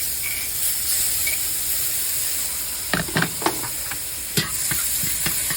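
Rehydrated minced onions hit a hot skillet with a steady steamy hiss and sizzle, then a cluster of sharp spatula taps and scrapes midway.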